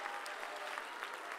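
Dense, steady hand clapping fills a church as a Pentecostal congregation applauds all together, loud and continuous with no pauses.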